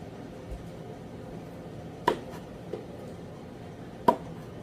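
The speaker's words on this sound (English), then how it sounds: "cut them up so they're really small, but not too small" A knife chops cantaloupe into small pieces on a cutting board, giving two crisp, isolated cuts a couple of seconds apart over a quiet background.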